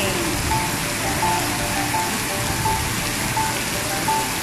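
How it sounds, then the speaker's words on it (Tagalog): Heavy rain pours steadily at the National Stadium in Singapore as a dense, loud, unbroken hiss, with a faint repeating beep sounding at regular intervals behind it. "Palakas ng palakas ang ulan, guys."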